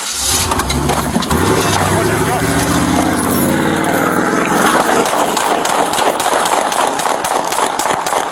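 A car engine idles at a traffic stop, a steady low rumble running throughout beneath close-up conversation between an officer and a driver.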